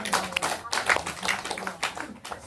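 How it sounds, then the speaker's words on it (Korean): A small audience at a self-care lecture gives a short, uneven round of clapping, individual claps close and distinct, lasting only a couple of seconds. "박수 한번 쳐주세요."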